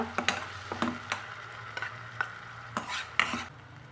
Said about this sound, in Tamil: இப்போ இது கூட நம்ம இந்த அரைச்சி வச்சுக்கிற மசாலாவை போட்டுக்கலாங்க போட்டு நல்லா வதக்கி விட்டுக்கலாங்க